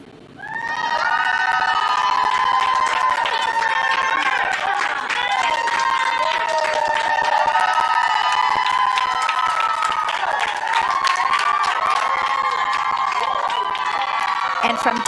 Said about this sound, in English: cheering on mission specialist Mark Pathy are the many doctors and family of the Montreal Children's Hospital